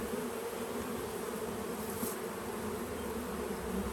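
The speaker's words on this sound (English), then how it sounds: "We want to see fanning at the door." Honeybees fanning at the entrance of a swarm-catch hive in Michigan make a dense, steady buzz that holds at an even loudness throughout, with no voices.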